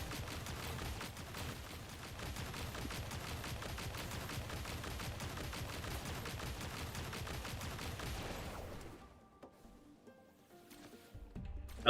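Sustained rapid gunfire from a minigun in the video game Duet Night Abyss, a dense continuous roar of shots for about eight seconds that cuts off abruptly, leaving faint game sounds.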